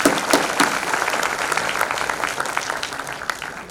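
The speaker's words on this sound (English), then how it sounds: "a very big round of applause for the academia and the room today" An audience at a 2022 convocation ceremony applauds, a dense burst of clapping that starts strong and gradually thins and softens over a few seconds.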